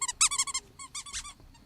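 A small dog in the game Fallout New Vegas yaps in a quick burst of sharp, high barks, close and loud, with a brief pause before a second run of yips.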